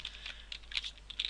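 Code being typed on a computer keyboard: a quick, uneven burst of light key clicks, close and fairly quiet, with no talking.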